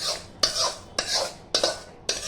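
A spoon scrapes and rubs through roasted poha chivda mixed with spiced oil in a pan, making four evenly spaced, crisp rasping strokes, each starting with a sharp scrape, close and loud with no talking.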